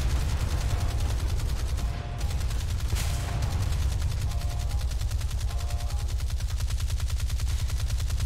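Rapid, steady volleys of naval ship guns thunder throughout a sea battle video game against a destroyer, a dense continuous barrage with heavy low rumble and no speech.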